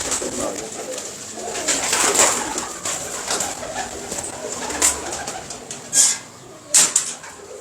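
Pigeons coo repeatedly at close range, with several soft throaty calls spread through the stretch and a few sharper bursts near the end, over a faint background murmur.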